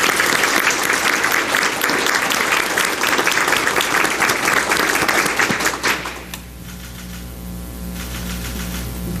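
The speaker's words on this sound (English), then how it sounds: "Let's give these all-state star bowlers a round of applause" An audience at a Tullahoma City Schools meeting gives all-state bowlers a loud round of applause, dense clapping for about six seconds before it stops abruptly, leaving a low hum.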